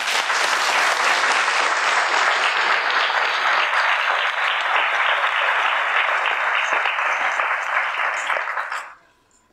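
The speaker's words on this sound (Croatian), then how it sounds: "Možemo jednim aplauzom." A school audience applauds at a year-end performance. The clapping is loud and sustained for about nine seconds, then fades quickly to quiet.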